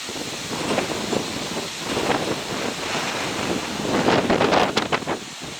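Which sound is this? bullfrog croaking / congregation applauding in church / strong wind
strong wind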